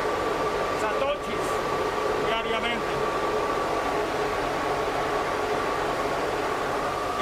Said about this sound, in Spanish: Estos ventiladores disipan el calor.